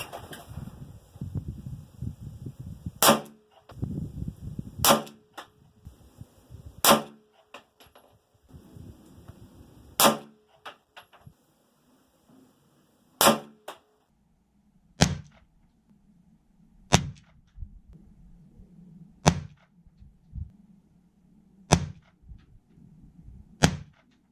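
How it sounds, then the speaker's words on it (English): Five or more sharp pistol gunshots fired from a shooting bench with full metal jacket 9mm rounds, loud close cracks spaced a second or two apart with quieter handling noise between shots. "we're going to be shooting the full metal jacket"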